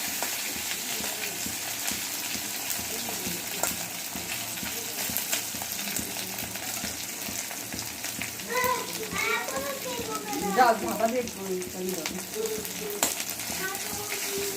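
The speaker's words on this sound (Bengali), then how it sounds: "এটাকে আমি ভালো করে ভেজে নেবো" Boiled mung dal and a fish head fry together in a pan, giving a steady close sizzle with stirring scrapes that grow busier toward the end, while faint voices murmur in the background.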